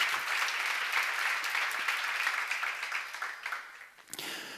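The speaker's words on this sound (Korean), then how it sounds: "박수로." A church congregation claps together in sustained, dense applause during a sermon seminar, holding steady before thinning and breaking off near the end.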